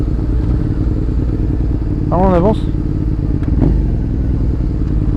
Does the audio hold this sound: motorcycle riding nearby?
yes